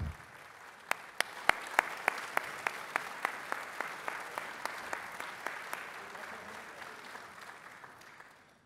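Audience applause at the 2010 U.S. Bicycle Hall of Fame induction ceremony: a soft, distant wash of clapping, with a string of sharp, evenly spaced claps standing out before the sound gradually fades.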